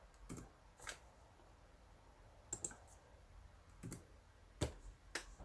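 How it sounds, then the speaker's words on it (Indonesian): The delete key is tapped on a computer keyboard, giving several faint, sharp, isolated clicks spread irregularly over a quiet background. "Kemudian kita tekan tombol delete pada keyboard."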